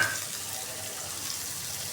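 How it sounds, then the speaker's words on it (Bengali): Onions frying in a pan as the base for a chicken roast, a steady, even sizzle and crackle of hot oil, moderately loud and continuous with no talk. "এখন আমি পেঁয়াজগুলো ভেজে নিব রেস্তার জন্য।"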